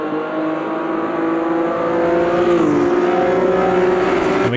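An Opala 79 race car in Automobilista 2 on the Londrina long circuit holds a loud, steady engine drone with a slight pitch sag partway through, sliding through a corner with no talking.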